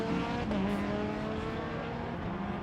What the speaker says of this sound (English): Here comes the rescue vehicle as the rest of the field goes through.